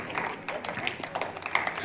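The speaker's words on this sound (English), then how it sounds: "you guys are clapping for me because you don't think I can read" Church audience breaks into applause during a minister's sermon, a dense, steady patter of many hands clapping, with a voice talking over it.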